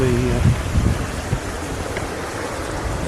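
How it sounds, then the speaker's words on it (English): Rain varying from light to heavy falls steadily on a south shore during a fly fishing outing, a dense continuous hiss close around, with a brief low voice at the start. "the rain is varying from light rain to heavy rain."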